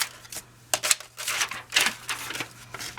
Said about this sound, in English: I'm going to cut these folded ends off.